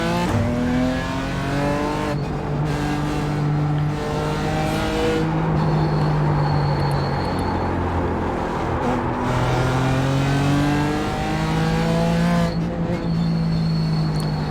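A BMW GT4 race car engine at Lime Rock in the iRacing sim, revving up through the gears and dropping on shifts, with some tire squeal. It sounds loud and close, with no talking.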